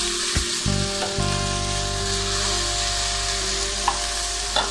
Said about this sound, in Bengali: এবার আমি ভেজে রাখা চিকেনটা আর একবার দিয়ে দিলাম, দিয়ে সবজির সাথে খুব ভালোভাবে আর একটু নেড়ে চেড়ে নিলাম।